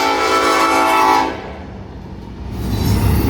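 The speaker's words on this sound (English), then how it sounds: "This train's coming by" A train rolls past a hillside campsite near Boiling Springs on the Appalachian Trail, its loud horn blaring for about a second before the rumble and rattle of the cars carries on, close by.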